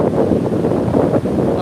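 Strong wind at the beach buffets the microphone, a loud, gusty low roar that rises and dips unevenly from start to finish.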